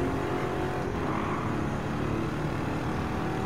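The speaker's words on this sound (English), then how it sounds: "This sound of the car engine is actually becoming way good." An old-fashioned Ford car engine in the Gran Turismo 7 racing game, during a time trial at Grand Valley South, holds a steady, continuous drone at a constant level throughout, with no voices over it.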